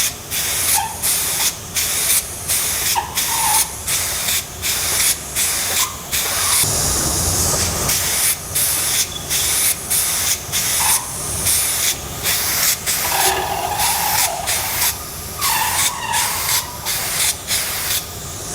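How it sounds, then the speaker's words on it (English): Repeated bursts of hissing spray from a spray gun painting a model, close and loud, pulsing on and off in a steady rhythm with a longer continuous spray midway. "hold it about 30 centimetres away, and then spray in the sweeping motions."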